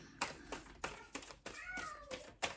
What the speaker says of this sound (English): That was my cats just having a bit of a scrap there.